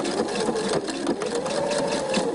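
A sewing machine stitches a T-shirt seam, running with a steady rapid mechanical whir that holds throughout at close range with no voices.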